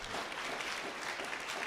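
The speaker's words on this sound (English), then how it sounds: "Please offer them a round of applause." At a book talk with a Pulitzer Prize-winning journalist, an audience gives a short, quiet burst of steady applause for family and friends, softly continuous with no voices.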